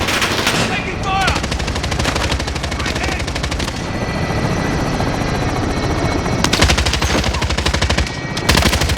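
Rapid machine-gun bursts in a Call of Duty: Modern Warfare battle, dense rattling fire that stops and starts over a constant helicopter rotor thrum, loud and close.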